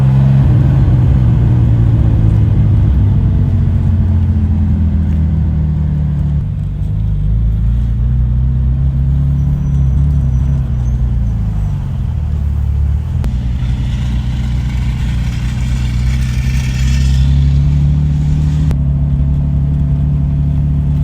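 A Porsche 996 Turbo engine rumbles loud and close while pulling back in from the Laguna Seca track, its drone rising and falling in pitch as it eases off and revs for about twenty seconds.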